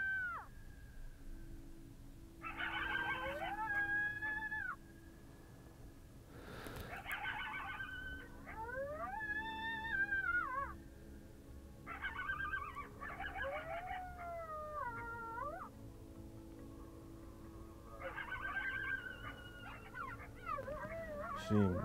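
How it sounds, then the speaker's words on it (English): Electronic predator caller blaring coyote pup distress and fight sounds outdoors during a coyote and bobcat hunt in Kansas: repeated wavering howls, yips and whines in bursts of a few seconds each, loud and continuous over a low steady hum. "I'll just keep thumbing through pup distresses or coyote fights."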